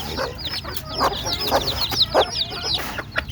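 Chickens cluck in a busy, overlapping flock while being fed, with repeated short calls and a few louder squawks close by, no talking.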